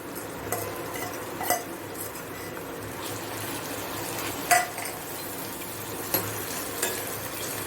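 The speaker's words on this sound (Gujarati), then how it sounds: "હવે તેની અંદર ડુંગળી એડ કરીશું." Onions tipped into a pan of sautéing ginger for pav bhaji and stirred, a low steady sizzle with a few clinks of the spoon against the pan.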